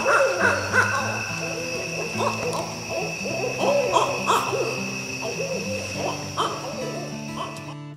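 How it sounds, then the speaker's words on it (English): Barred owls call back and forth at night along the Ichetucknee River, a loud, overlapping series of hooting, barking and cackling calls that continues steadily, with a faint steady insect whine behind them. "At night, one of our favorite pastimes is listening to the barred owls calling to each other."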